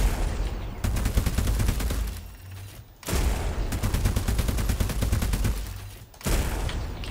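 Heavy cannon fire from a mech or tank weapon in the MetalCore vehicle combat game, a loud dense barrage of rapid booming shots in two long bursts separated by brief pauses.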